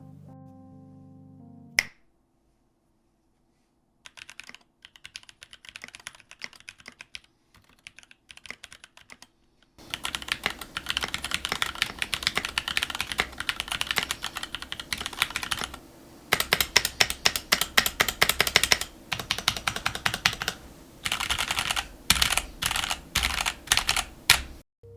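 A mechanical keyboard, an NK65 Entry Edition kit with no mods, clacks under steady typing, starting with sparse keystrokes and building into fast, dense bursts of crisp clicks, close and alone.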